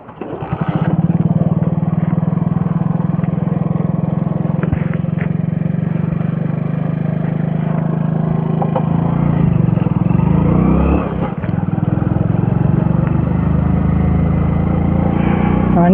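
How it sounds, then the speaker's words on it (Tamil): A motorcycle engine roars loudly and continuously up close during a solo ride in the Yelagiri Hills, with a steady low rumble, a brief dip in throttle midway, then it pulls back up. "வண்டி எப்படி உரும்புது பார்த்தீங்களா?"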